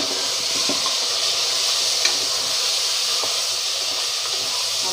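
Chicken pieces coated with ground coriander sauté in a hot pan, giving a steady close hiss and sizzle with a few soft stirring clicks, and no talking.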